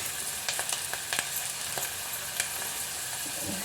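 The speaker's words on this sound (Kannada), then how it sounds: "1 ಈರುಳ್ಳಿನ ಹಾಕ್ಕೊಂಡು ಈ ಥರ ಚೆನ್ನಾಗಿ ಫ್ರೈ ಮಾಡ್ಕೊಳ್ತಾ ಇದ್ದೀನಿ" Onions frying in a pan, giving a steady hiss of sizzling oil broken by sharp crackles and pops, with occasional stirring scrapes and no talking.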